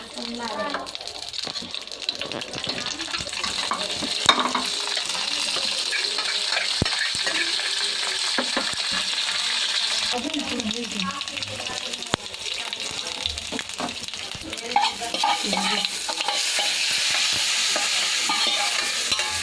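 Mustard seeds and curry leaves sizzle and crackle in hot oil for tempering a tomato cashew chutney, while a spoon stirs and scrapes the pan, with a voice now and then.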